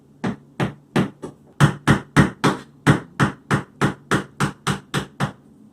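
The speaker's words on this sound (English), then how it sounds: "I've been resorting to using the tool and a hammer." A hammer strikes a scraping tool to lift old, tough caulk from a bathtub, about seventeen sharp, steady metallic blows in a regular rhythm, close and loud with no talk.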